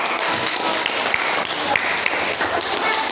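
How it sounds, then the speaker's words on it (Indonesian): Applause from students in a seventh-grade classroom during an Islamic studies lesson, a steady, dense patter of many hands clapping close by that fills the whole moment without letting up. "Kasih tepuk tangan dulu"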